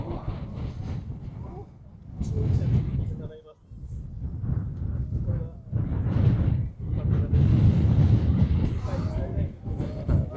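Strong wind gusts buffet the microphone at a volcano crater rim, a heavy low rumbling roar that swells and dips throughout while people talk.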